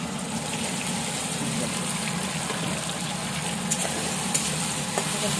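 Soya chunks coated in salt and turmeric frying in hot oil, a steady close sizzle with stirring and a few faint clicks, no voices.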